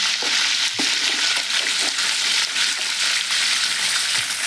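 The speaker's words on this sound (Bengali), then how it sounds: "এবার সাদা জিরে আর কালো জিরেটাকে আমি ভালো করে তেলের মধ্যে ভেজে নেব" Whole white and black cumin seeds fry in hot oil for a prawn and potato curry, a dense, loud hissing sizzle with a couple of light utensil taps and no speech.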